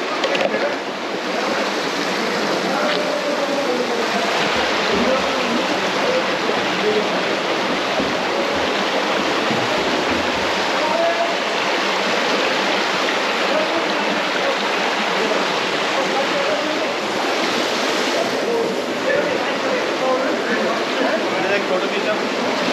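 Flowing water at Wadi Bani Khalid natural pool in Oman, a steady broadband rush like a stream or small cascade running continuously and fairly loud, with faint voices now and then in the background.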